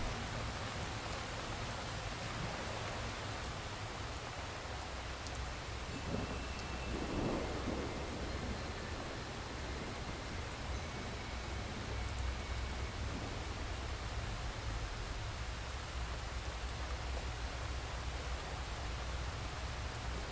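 Steady rain pours for sleep and relaxation, a dense continuous hiss of drops on surfaces with a low rumbling undertone that swells briefly midway, with no voices throughout.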